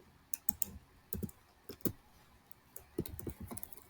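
Text typed on a computer keyboard: quiet, irregular bursts of close clicking keystrokes with short pauses between them, and no voices.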